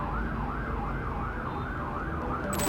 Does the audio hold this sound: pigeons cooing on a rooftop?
no